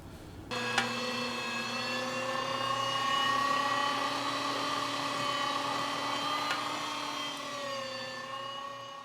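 A meat grinder forces ice-cold meat through a chilled hopper, its steady electric motor whine droning continuously at close range and holding a constant pitch throughout.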